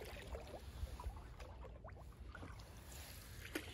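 Canoe paddling on the Mississinewa River in December, soft irregular splashes and water trickles close by over a faint steady outdoor background.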